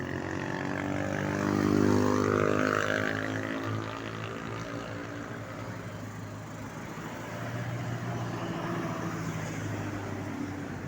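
Highway traffic in Gerona, Tarlac rumbles along continuously. One loud vehicle swells past early on, and a steady drone of engines holds underneath throughout.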